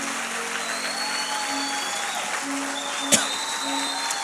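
A church congregation claps for its pastors: steady, sustained applause filling the room, with a sharp single clap standing out near the end.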